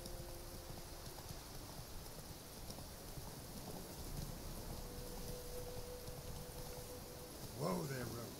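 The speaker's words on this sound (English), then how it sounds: "We got rain." Steady rain hisses in The Witcher 3, a constant wash of noise, with a brief voice near the end.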